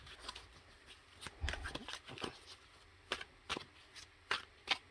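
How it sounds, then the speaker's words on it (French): Tarot cards being shuffled by hand, a series of quiet, crisp riffling bursts spaced unevenly, close and soft in a quiet room. "je mélange les cartes"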